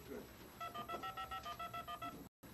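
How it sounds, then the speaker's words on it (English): A telephone auto-dials a stored number, sending a quick run of about a dozen evenly spaced DTMF tone bursts over a faint background hiss. "The phone number shows up, and in about 5 seconds, it'll dial out."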